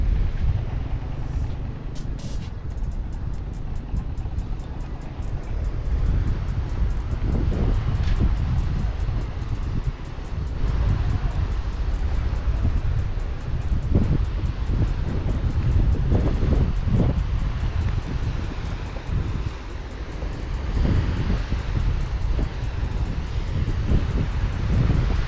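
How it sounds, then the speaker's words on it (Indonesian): Fresh wind blows steadily across the beach at Sendang Asih near a river mouth, a continuous low rumble of buffeting air against the microphone with no pauses. "Udah anginnya seger."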